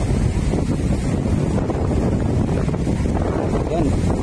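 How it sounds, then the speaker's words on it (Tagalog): Heavy wind sweeps over Manila Bay's Dolomite Beach as Typhoon Henry nears, a dense, constant roar buffeting the microphone with surf churning underneath and no break. "At lakas na ng hangin"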